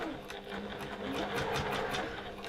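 A sewing machine runs a quarter-inch seam along a beach hut pouch, its close, steady mechanical whir holding at an even pace with small speed shifts and faint talk beneath.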